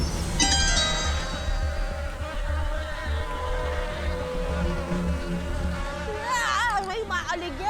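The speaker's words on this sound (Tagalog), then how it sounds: "Maya-maya pa, May mga umaaligid na mga bubuyog." Bees buzzing around close by in Bataan, a steady, loud hum that drifts and wavers throughout, with a few high chirping sounds near the end.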